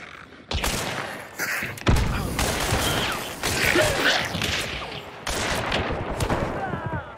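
Gunfire in the Hunt: Showdown video game, with loud repeated shots and bursts cutting in sharply across the clip over busy battle noise, near and forceful.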